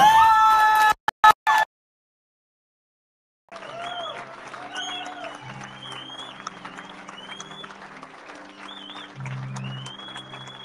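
A crowd at a rally applauds Cliven Bundy. A short burst of speech comes first, then a pause, then a steady wash of clapping with voices mixed in.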